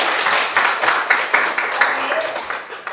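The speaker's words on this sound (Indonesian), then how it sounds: "terima kasih tepuk tangan untuk Intan" A class applauds a student named Intan during an Indonesian lesson on algorithms, a steady patter of claps with a few louder peaks, fairly close and without speech over it.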